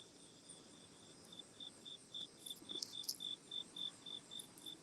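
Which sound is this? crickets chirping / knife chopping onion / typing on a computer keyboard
crickets chirping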